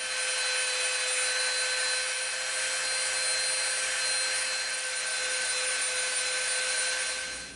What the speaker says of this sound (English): we're going to soften these edges up a little bit with the Dremel